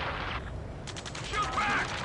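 Gunfire in Ace Combat 7 crackles in rapid bursts through the second half, dense and fairly loud over a steady background din, with voices talking underneath.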